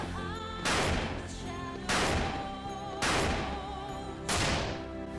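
Handgun gunfire in the Dead Rising video game, fired while walking: four sharp shots at an even pace, each with a bright burst and a short decay over a steady game background hum.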